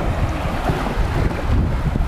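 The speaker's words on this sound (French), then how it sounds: "Il y a le vent qui souffle" Strong wind blows across the beach at Qerret, Albania, a loud, steady rushing roar that buffets the microphone throughout, with no voices.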